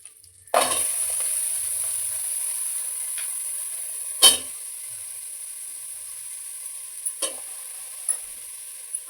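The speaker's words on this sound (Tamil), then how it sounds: "இப்போ பட்டையும் இலையும் போட்டுட்டு வதக்கிட்டு இப்போ வெங்காயம்," Onion with cinnamon bark and bay leaf sautéing in hot oil in a pan: a steady close sizzle starts abruptly and holds, broken by a few sharp spatula knocks and scrapes, with no talking.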